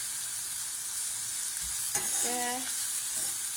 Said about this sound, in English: So I keep cooking the onions until they go light brown.